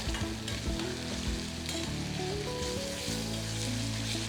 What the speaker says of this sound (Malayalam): ഇതെല്ലാം കൂടെ നന്നായിട്ട് മൂപ്പിച്ച് വറുക്കുക.